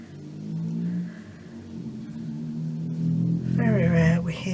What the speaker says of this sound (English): That sounds a bit ropey for a car.